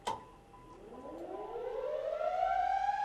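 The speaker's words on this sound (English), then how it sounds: "we'll activate the siren by flipping the switch right over here on the wall" A tornado civil defense siren, mounted for a county warning system and tested monthly, winds up from a low tone after a sharp click, rising steadily in pitch and loudness into a sustained wail.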